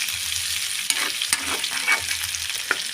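Chopped garlic sautés in a hot pan, producing a dense, continuous sizzle up close with several sharp clicks and scrapes from stirring and a low hum in the background.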